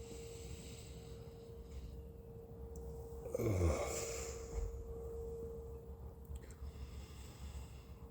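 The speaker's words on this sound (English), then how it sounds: "Let's have a sniff." One close, breathy sniff of boxed red wine in a glass rises briefly over a quiet room with a steady low electrical hum, followed by faint rustling.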